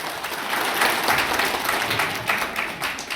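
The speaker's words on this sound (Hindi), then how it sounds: "आशीष वशिष्ठ जी के लिए जोरदार तालियां" A crowd gathered at a farewell ceremony for an outgoing SDM in Gohana gives loud, sustained applause, dense clapping that carries on steadily for a few seconds.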